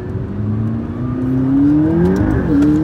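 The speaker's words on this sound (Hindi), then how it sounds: "बेकार टर्बो सुन रहे हो?" McLaren supercar accelerating hard, its turbo engine rising in pitch through a gear with a steady building roar and a shift near the end, loud and close from inside the cabin.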